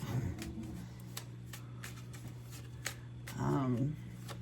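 Tarot cards are shuffled and tossed down during a reading, giving soft repeated riffling taps and a brief louder flurry near the end, with a voice murmuring faintly underneath.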